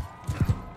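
Horses moving in the medieval combat game Mount & Blade II: Bannerlord, three low, heavy hoofbeat thuds in quick succession, fairly close and alone with no talk over them.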